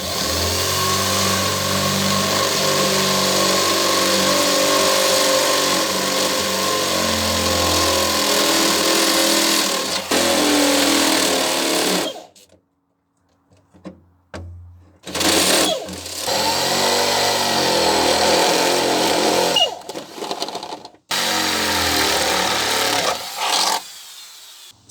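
A power drill drilling metal plates whirs steadily for several seconds, stops, then runs again in a few shorter bursts with quiet gaps between.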